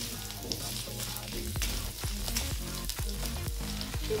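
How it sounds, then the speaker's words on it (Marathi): Green chillies and coconut roast in oil for sesame chutney, producing a loud, continuous sizzle and crackle with periodic rhythmic stirring knocks against the pan. "आता पटकन तेल सोडल्यामुळे मिरची छान भाजून जाईल आणि खोबरं पण"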